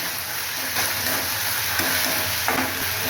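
Patvadi pieces brown lightly in oil in a pan, giving a steady close sizzle with a few soft stirring scrapes at intervals.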